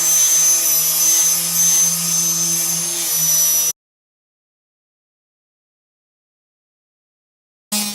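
A wet saw blade cuts porcelain tile for a mitre, giving a loud steady whine with a low hum for nearly four seconds, then it stops dead into silence before starting again briefly.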